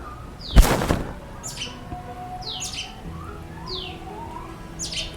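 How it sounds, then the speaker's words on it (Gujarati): Several birds chirp with sharp, repeated calls from a pipal tree in the evening at a moderate distance, following a brief thump near the start. "ઘણા બધા પંખીડા બેઠા છે પીપરમાં"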